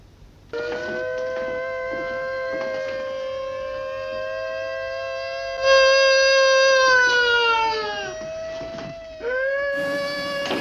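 A voice imitates a police siren, wailing in long rising and falling tones, loud and close, pausing briefly before starting again.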